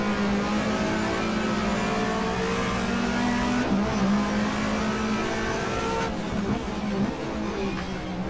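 Ford Sierra touring car engine driven by Peter Hills at Eastern Creek in 1994, a loud, steady race-car drone holding a strong low tone throughout, with a few brief gear-change dips and other cars blending in.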